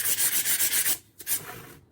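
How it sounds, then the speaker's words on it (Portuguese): Sandpaper rubs lightly over an MDF box in quick rhythmic back-and-forth strokes, close and fairly loud, ending in a few softer scrapes. "a gente passa bem de leve a lixa"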